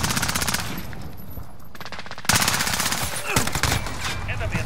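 AN-94 rifle fire in a video game, loud close bursts of rapid automatic shots with brief pauses between volleys, over a busy background of battle noise and voices.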